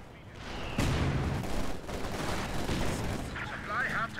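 Machine gun fire from a battle in the strategy game Company of Heroes 2: dense, continuous rattling bursts mixed with heavier booms, steady and moderately loud under a talking voice.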